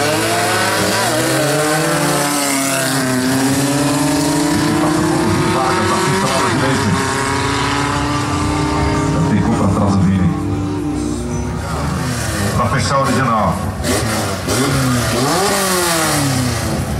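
A turbocharged drag racing car at a drag racing festival in Passo Fundo, RS revs hard and accelerates, a loud engine with rising and falling pitch sweeps across the whole stretch, heard fairly close.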